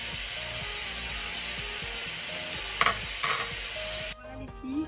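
A Cookeo multicooker cooks a sweet-savoury veal and quince tagine, giving a steady loud hissing, bubbling sizzle with faint clinks before it drops away near the end, with no talk.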